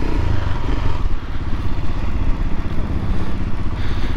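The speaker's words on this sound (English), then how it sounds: "Royal Enfield Himalayans. We're gonna go for a quick spin." Royal Enfield Himalayan motorcycles ride off together, their single-cylinder engines thumping and clattering loudly and close by in a steady, rough rhythm.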